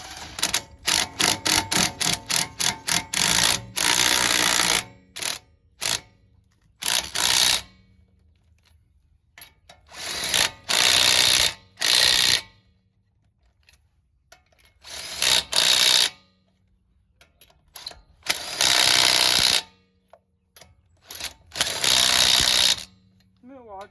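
A Milwaukee power tool fires in rapid hammering bursts on the lift bolts of a third-generation Toyota 4Runner during a 3-inch lift install, loud and close, with repeated short trigger pulls separated by quiet gaps and brief talk.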